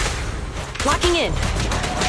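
Rapid in-game gunfire in Zenless Zone Zero, a dense fusillade of shots packed into about two seconds, loud and close, with voiced combat lines mixed in among the bursts.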